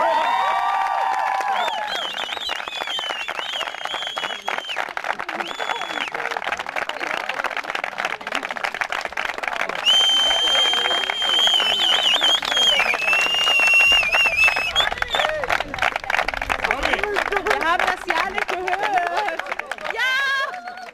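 Spectators applauding and cheering at a football ground after an on-pitch marriage proposal, sustained crowd clapping and noise beneath music and a voice talking over it.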